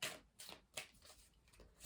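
Tarot cards are shuffled by hand in quick, soft riffling bursts, several brisk flutters close up and quiet with no voice.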